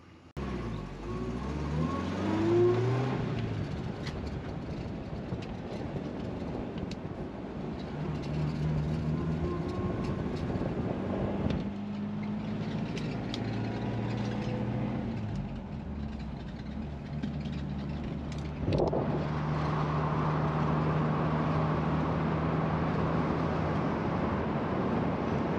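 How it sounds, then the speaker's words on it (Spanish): A 1951 Buick Super Riviera Hardtop is driven, its engine a steady low drone that rises and shifts pitch as it pulls away and changes speed, with road rumble and a bright surge near the end, no talking. "Vamos ahora a darle una vuelta para que ustedes vean cómo camina."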